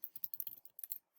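Quiet, close typing on a computer keyboard: a quick run of light clicks and taps in uneven bursts, with a brief pause near the end.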